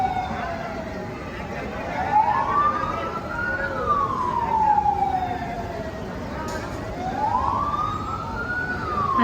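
An ambulance siren wails in a narrow lane, rising and falling in slow sweeps, loud and fairly close, with street noise underneath.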